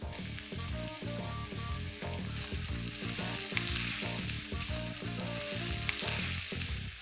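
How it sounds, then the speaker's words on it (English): Chopped tomatoes and broken cashew nuts frying on high flame for a restaurant-style gravy, a loud, constant sizzle with rhythmic pulsing underneath throughout, close by and with no talk. "Stir this on high flame and add in some salt"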